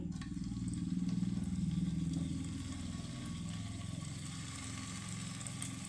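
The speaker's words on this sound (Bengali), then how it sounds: "এখন আমি ওই পনির কোপ্তাগুলো আমি ভেজে নেব। এখন আমি ভেজে নেব, তেলটা গরম করে নিয়েছি আমি।" Paneer koftas frying in a pan of hot mustard oil, a faint steady hiss of sizzling with a low hum running underneath throughout.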